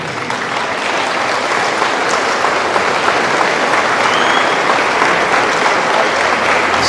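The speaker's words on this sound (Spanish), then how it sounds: "estos aplausos para ti" A large congregation applauding during a Catholic gathering led by Padre Luis Toro, a loud, sustained, even roar of many hands clapping with no voices over it.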